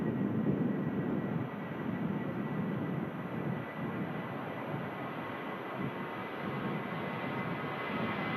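A Ryanair jet accelerates down the runway at Manchester Airport on its takeoff roll to Alicante, its engines producing a steady, broad roar heard from a distance with no talk over it.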